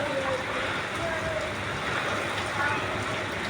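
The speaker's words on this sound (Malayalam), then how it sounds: "മഴ വീണ്ടും കൂടുകയാണേ" Heavy rain falling again after a long spell of intense heat, a steady, even hiss throughout, with a voice talking over it.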